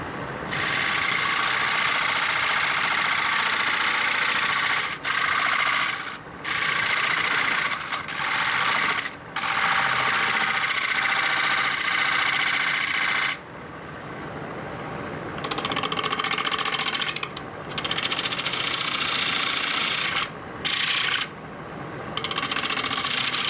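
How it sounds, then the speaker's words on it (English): A wood lathe spins while a skew chisel cuts a dovetail on a tenon, a loud continuous scraping hiss broken by short pauses as the tool lifts away. "going to form the dovetail on my tenon using my skew"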